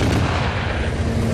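A pair of artillery cannon tubes firing, heard as a dense, continuous low boom and rumble that stays loud throughout, with no separate shots standing out.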